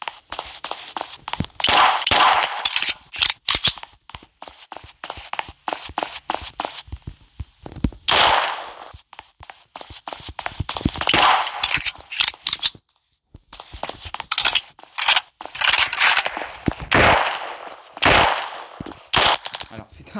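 Rapid bursts of automatic gunfire come from a weapon in the Block Strike shooter game, loud and close, firing in long stuttering volleys separated by brief pauses, with footsteps and clicks mixed in.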